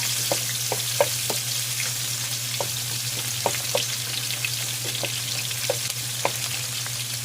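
Garlic fries in cooking oil in a pan, a steady close sizzle with scattered pops and spatters running throughout over a low constant hum, and no one speaking.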